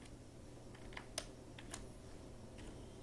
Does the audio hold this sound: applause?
no